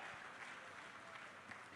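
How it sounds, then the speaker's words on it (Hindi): An audience at a political speech applauds in a steady, faint wash of clapping from a distant crowd, continuous and without talk over it. "तालियों की गड़गड़ाहट से"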